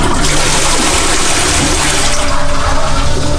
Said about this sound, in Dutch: Trek de wc maar door.